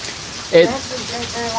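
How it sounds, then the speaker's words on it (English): Heavy thunderstorm rain pours in a steady, dense hiss near a hilltop house, with people talking over it; no distinct thunder stands out. "It's a heavy thunderstorm. Yeah, it's exactly a storm."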